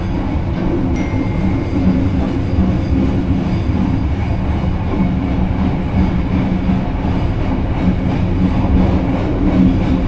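Argo Bromo Anggrek luxury passenger train departing Bojonegoro station, heard from inside with a steady loud low rumble of wheels and carriage, continuous rolling rail noise without talk.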